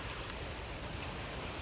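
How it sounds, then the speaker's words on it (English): Heavy rain pours down during a flood warning, a dense, even hiss of falling water that stays constant and fairly faint throughout. "Yeah, it is raining buckets, guys"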